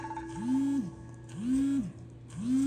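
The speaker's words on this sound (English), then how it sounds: "that's my alarm going off" A phone alarm sounds with a repeating rising-and-falling electronic tone, cycling roughly once a second in three steady, moderately loud pulses.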